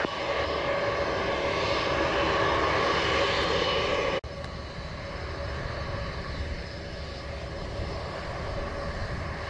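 A Jet2 airliner lands on runway 07 at Montego Bay, Jamaica, a loud steady roar of jet engines that holds throughout and drops slightly after a brief break partway through.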